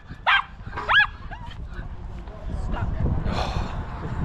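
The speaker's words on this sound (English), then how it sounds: "That dog never stops yapping" A small dog barks and yaps in sharp bursts at a North Wales coastal spot, fairly close, with faint outdoor wind and ambient noise behind.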